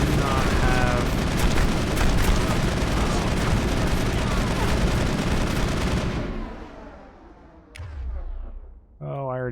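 Mass Effect firefight against commandos, with dense rapid gunfire and booming shots loud throughout most of the stretch, then dropping off into quieter effects near the end.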